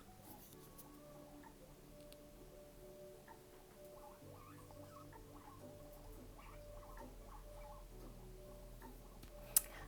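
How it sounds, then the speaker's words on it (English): Pet guinea pigs squeak and patter faintly in the background of a quiet room. Their small high chirps and scratchy ticking movements run steadily, with a low hum underneath and a sharp tick near the end. "you can hear that squeaking in the background, that is my guinea pigs"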